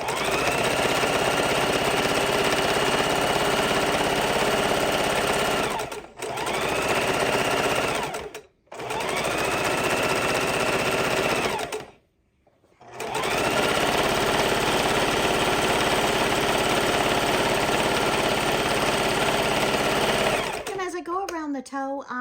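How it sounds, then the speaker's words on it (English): A sewing machine stitches a quarter-inch seam around a Christmas stocking, humming loudly and close. It runs in long continuous bursts, broken by two brief pauses and a longer stop, before fading out. "we're just sewing our 1/4 inch seam all the way around"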